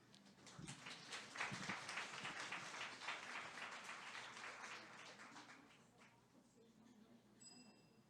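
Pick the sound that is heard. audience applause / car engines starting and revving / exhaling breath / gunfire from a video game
audience applause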